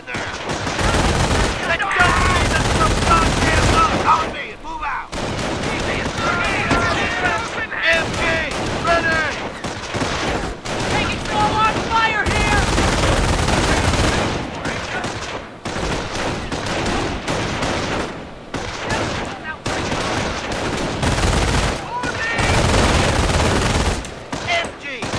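Company of Heroes squads open up on an enemy patrol in a long, loud barrage of rapid game gunfire, with bursts separated by brief gaps and voices speaking in places.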